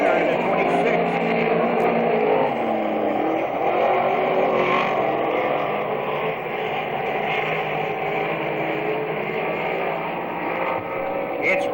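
Race cars at Merrittville Speedway roar steadily as the field comes off turn two onto the back straightaway, a continuous loud engine drone lasting throughout, with a commentator's voice running over it.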